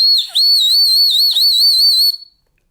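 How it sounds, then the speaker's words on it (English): A piercing, very loud high-pitched whistle built into a survival pen, blown in one long blast, its tone warbling up and down before cutting off abruptly. "it is a whistle and it does its job"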